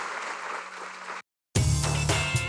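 A church congregation claps and applauds steadily, loud and close, breaking off into a short silence before a fuller, brighter burst of applause resumes.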